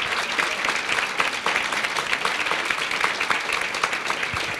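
An audience at a Norooz celebration at Michigan Tech gives a steady round of applause, dense continuous clapping at moderate volume throughout with no speech over it.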